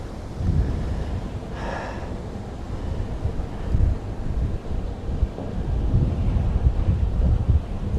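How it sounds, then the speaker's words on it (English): Strong wind buffets the microphone beside a river during narrowboat cruising, a constant low rumble with gusts, plus faint water and boat sounds and no speech. "The wind is blowing very heavily."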